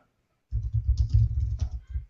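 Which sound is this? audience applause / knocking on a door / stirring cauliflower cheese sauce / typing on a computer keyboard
typing on a computer keyboard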